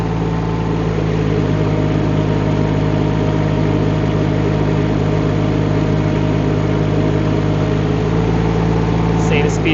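A Rippa R18 mini excavator's engine runs steadily in low gear with blade and bucket raised, a loud continuous low drone and hum that holds unchanged throughout.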